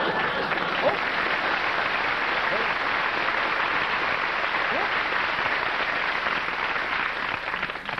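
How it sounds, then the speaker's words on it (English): A comedy show studio audience breaks into sustained applause, a dense, even roar of clapping that holds at a steady level for the whole stretch with no voices over it. "Clap so early on, very good"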